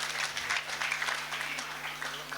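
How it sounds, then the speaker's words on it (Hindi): Audience applause welcoming guests at a library function in India, a dense, fairly quiet clatter of many hands clapping steadily, with a low steady hum beneath. "इनके लिए भी मैं चाहता हूं कि आप जोरदार तालियों से स्वागत करें।"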